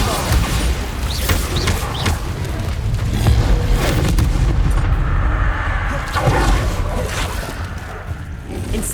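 Bombarda blasting spell explosions from the Hogwarts Legacy video game: a dense, loud, continuous roar of booming blasts and rumbling debris that rolls on without a break.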